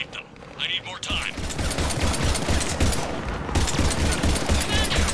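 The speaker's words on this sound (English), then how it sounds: "Shepard, we're under fire." Sustained automatic gunfire in the Mass Effect 3 video game, a dense, loud rattle of shots with a voice speaking briefly at the start.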